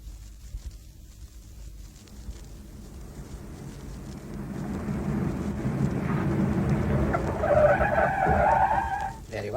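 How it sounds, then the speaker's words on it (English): A car engine grows louder as the vehicle approaches and draws up close in a station forecourt, with a rising rumble and tire noise toward the end. "That's his car in the station forecourt"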